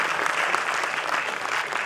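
Steady, dense applause from an audience at an international film festival ceremony, continuous and fairly loud throughout without pause.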